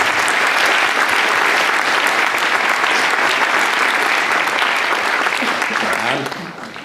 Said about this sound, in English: Please give them a round of applause for joining us on stage.